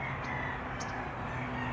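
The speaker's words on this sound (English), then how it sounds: "Somebody has a lot of roosters back here." Several roosters kept behind a property crow faintly in the distance, a few brief calls buried under steady outdoor hiss and background noise.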